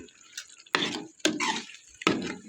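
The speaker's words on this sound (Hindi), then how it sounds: "तो दही इसमें जो है डल चुका है माशाल्लाह। अब इसको मिक्स करेंगे" A spoon stirs yogurt into potato bhajiya batter in a bowl, giving three or four separate wet, squelching strokes that are close and fairly loud, with short pauses between them.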